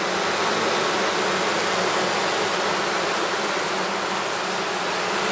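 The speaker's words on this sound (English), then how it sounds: "Scenting. It's sort of a reflex reaction to bees that are disoriented." Honeybees scenting at the entrance of a cell-builder hive make a dense, steady hum and buzz, loud and close, with no break for the whole stretch and no voices.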